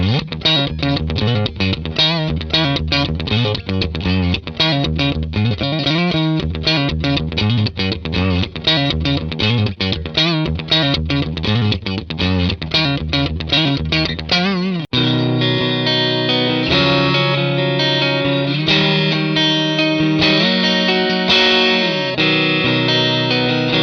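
Fender Telecaster electric guitar played on the neck pickup through effects with distortion and chorus, a loud continuous riff of fast chugging chords giving way after the midpoint to sustained ringing chords, alone without talk.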